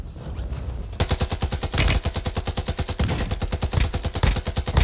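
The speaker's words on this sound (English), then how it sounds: "Oh, you're getting shot." Rapid automatic gunfire from a Call of Duty Warzone Plunder match rattles out in loud, evenly spaced bursts that run almost continuously, with brief pauses between strings of shots.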